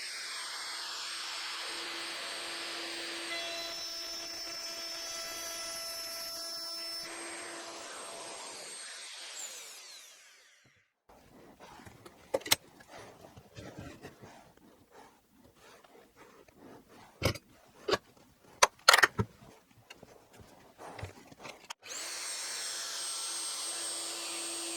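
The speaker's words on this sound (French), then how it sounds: "On commence avec la mèche de 6 mm." Power drill with a 6 mm bit boring into wood while building a workbench: a loud, sustained whine that winds down, then a stretch of scattered knocks and clatter, before the motor whine rises again near the end.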